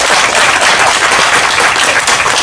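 Audience applause fills a Tamil film audio launch hall, a dense, steady wash of many hands clapping at once, sustained and loud throughout with no break.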